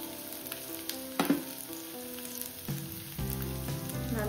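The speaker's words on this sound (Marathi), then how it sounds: "त्यामध्ये आपण 2 चमचे तेल टाकूया। यामध्ये आपण लसूण टाकूया," Garlic dropped into two spoons of hot oil for a paneer vegetable dish, a crackling sizzle with a sharp burst at the start and occasional spoon scrapes, under background music.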